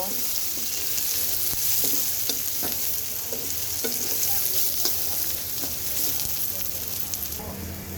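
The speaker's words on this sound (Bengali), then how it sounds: "এর মধ্যে দিয়ে দেব পেঁয়াজ কুচি পেঁয়াজটাকে আমি সুন্দর করে একটু হালকা ভেজে নেব" Chopped onions lightly frying in a pan, a constant close sizzle with intermittent stirring scrapes and taps throughout, no speech over it.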